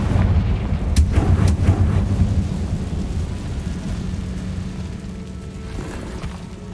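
A Confringo fire spell blast in the Hogwarts Legacy video game, a deep rumbling explosion with a few sharp cracks near the start, then a long low roar that slowly fades.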